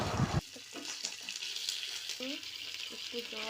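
Ginger, tomato and ground cumin paste sizzling in a pan, a steady close frying hiss with faint clinks and voice-like tones breaking through.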